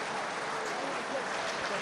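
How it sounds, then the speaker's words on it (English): Applause ripples around a rugby ground during a Northampton versus Saracens Premiership match, a steady broad wash of distant clapping from the stands filling the whole moment without a break. "Might be able to hear applause around the ground after 9 minutes"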